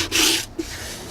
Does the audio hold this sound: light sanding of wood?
yes